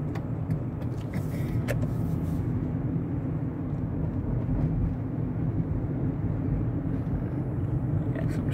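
Car traffic rumbles steadily along a street in east Dearborn, Michigan, a continuous low drone of passing vehicles heard from a moving car, with no talking.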